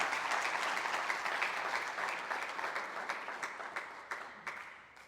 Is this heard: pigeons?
no